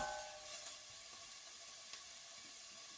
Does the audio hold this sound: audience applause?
no